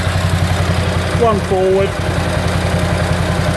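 A 1927 BSA S27 500cc motorcycle engine idles steadily and quietly up close, its low rhythmic pulse continuing throughout while someone talks briefly over it.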